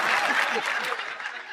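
Brief burst of audience applause at a French-language comedy show, dense clapping fading slightly, with faint chuckling in the crowd.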